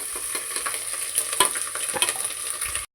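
Ginger garlic paste frying in oil for chicken biryani, a close, steady sizzle with stirring scrapes and a few sharper spatters, ending abruptly.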